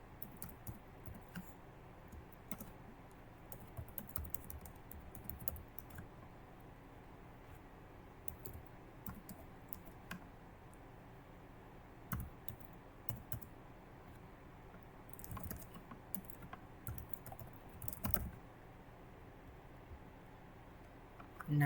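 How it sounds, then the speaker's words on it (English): Keys clatter on a computer keyboard as an email address is typed into a cocktail website's sign-up form, a quiet, uneven run of soft clicks and taps in a steady stream. "Now let's type the correct one."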